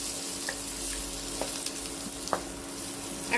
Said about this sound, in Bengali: রসুনের কোয়া দিয়ে জাস্ট 2-3 মিনিট আমি এটাকে ভেজে নেব